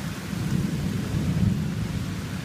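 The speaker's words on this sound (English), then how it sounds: "watching the thunderstorm roll through" Steady rain pours down while deep thunder rumbles continuously underneath, a dense, enveloping storm with no voices, on a homestead.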